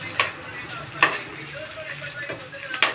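Mustard seeds, cumin and fenugreek frying in oil with garlic, a low crackling sizzle punctuated by a few sharp pops and spatters at irregular intervals, close and moderately quiet.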